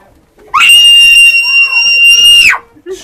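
A loud, sustained high-pitched scream from the Haunted Theatre Tours video game rings for about two seconds, piercing and close, rising sharply at the start and cutting off abruptly.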